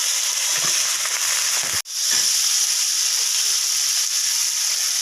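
Raw plantain and potatoes sizzle in hot oil in a pan, a loud steady hiss broken once by a brief pause and then resuming, close by with no talk.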